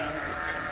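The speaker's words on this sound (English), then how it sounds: "These sheep here are Dorsets and Dorset Rideau crosses and Dorset Texel crosses" A Dorset cross sheep gives one short, clear bleat close by, holding a steady wavering tone with no talk over it.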